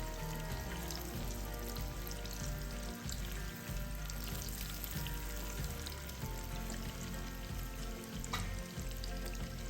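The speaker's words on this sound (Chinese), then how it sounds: "第二次油炸，豆腐不再粘连，所以大量一次过油炸就好" Tofu cubes deep-frying in a large batch of hot oil over high heat, a dense, steady bubbling and crackling sizzle with light stirring, continuous and close throughout with no talking.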